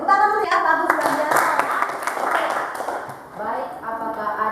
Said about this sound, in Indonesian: tepuk tangan dulu ya, bagus belajar